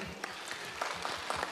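An audience at a community foundation event gives a round of applause, a dense patter of many hands clapping at moderate volume for the whole moment, with no one speaking.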